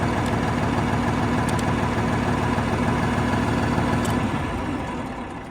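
A New Holland 55 tractor engine idles steadily at close range, a continuous low rumbling drone with faint ticking that eases slightly in loudness toward the end.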